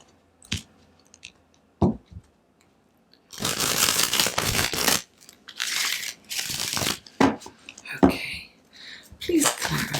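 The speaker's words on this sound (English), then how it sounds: "One last shuffle for the clarifying cards." Tarot deck being shuffled by hand, bursts of papery riffling and card slaps in several uneven flurries, close to the microphone, with a few brief taps and rustles between them.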